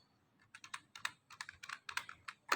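Typing on a computer keyboard while editing a table record, a steady run of close, crisp key clicks in uneven bursts with no talking.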